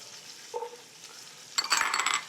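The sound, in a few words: carrots, onions and garlic sauteing in fat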